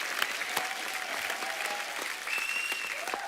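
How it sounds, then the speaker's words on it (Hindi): Studio audience at a comedy talk show applauding steadily, a dense even wash of clapping with light crowd noise throughout. "और शिखर पाजी के लिए भी जोरदार तालियां।"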